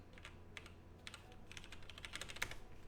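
Rapid typing on a computer keyboard, quiet clicky keystrokes tapping in irregular bursts and quickening toward the end over a faint low hum, with no voices.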